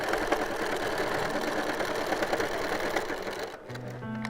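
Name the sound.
sewing machine stitching a quilt block seam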